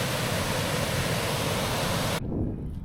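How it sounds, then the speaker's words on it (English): Treated wastewater pours as a waterfall into Marsh Creek, a loud, steady broadband rush that cuts off abruptly near the end and leaves only a quieter low rumble. "This looks like a beautiful waterfall, but it's treated wastewater that's being released back into Marsh Creek"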